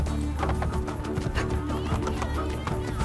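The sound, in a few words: horses galloping in the video game Assassin's Creed Brotherhood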